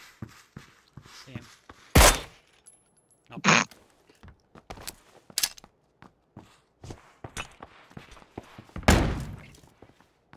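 Sharp gunshots in PLAYERUNKNOWN'S BATTLEGROUNDS ring out in irregular bursts, with two loud near blasts and many quieter cracks and thuds scattered between them.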